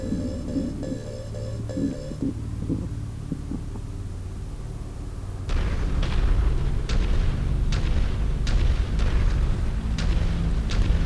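Mech weapons in MechWarrior 5: Mercenaries fire in a steady run of sharp, loud blasts and booming explosions in a lava setting, following a stretch of beeping cockpit alarms and low machine hum.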